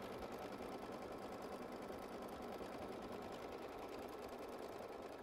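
An embroidery machine runs a placement stitch for paper piecing, giving a steady, even, rapid mechanical whir and needle chatter that is faint but constant throughout.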